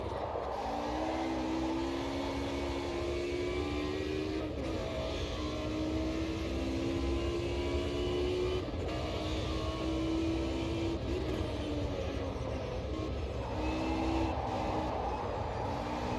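In the Automobilista 2 racing game, a classic DTM race car's engine drones steadily and loudly, with rising pitch sweeps as it revs through the gears and brief dips at each shift.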